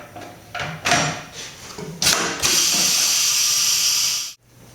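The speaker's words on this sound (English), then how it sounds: "After the rim protectors are in place, clamp the wheel into position." A tire changer machine clamps a BST carbon fiber wheel: several mechanical clunks and ratcheting clicks, then a loud, steady pneumatic hiss for about two seconds that stops abruptly.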